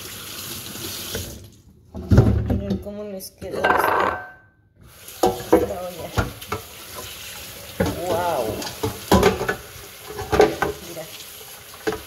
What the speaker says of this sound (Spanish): De esta manera limpiamos las ollas